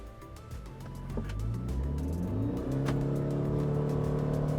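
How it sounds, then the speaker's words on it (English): A 2022 Ford Maverick Hybrid carrying a payload accelerates hard from a standstill during a 0 to 60 test, its engine note climbing steadily and droning louder from inside the cab, with no talking. "We are back in the Maverick Hybrid, and we're about to try acceleration testing 0 to 60 and quarter mile with"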